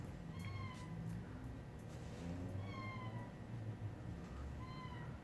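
Cat meowing repeatedly indoors in a garage workshop, several short rising-falling cries close by over a constant noisy background hum.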